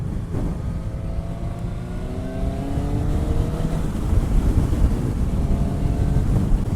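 Wind roars and buffets against the microphone while riding a 2018 Suzuki GSX-S750 ABS motorcycle in the Phoenix area, with the engine's rising whine climbing beneath the steady rushing noise.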